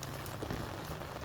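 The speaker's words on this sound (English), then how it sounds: "it's rain coming down" Cold rain falls outdoors in strong wind, freezing as it hits, making a faint, steady hiss and patter that continues evenly without any voices.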